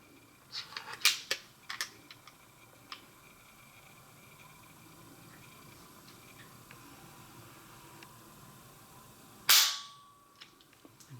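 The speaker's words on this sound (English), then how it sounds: "Here's a look at the trigger pull on this Henry." Trigger clicks from a Henry Big Boy All-Weather .357 Magnum lever action rifle: a few sharp, close clicks early on, quiet stretch, then one louder crisp snap near the end.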